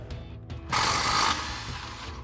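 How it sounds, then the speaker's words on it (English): An impact wrench with a 17 mm socket removes lower shock mounting bolts, a single loud buzzing burst of under a second, with mechanical rattling before and after. "we can go ahead and remove our lower shock mounting bolts, and we'll grab our 17 mil socket on our impact to do so"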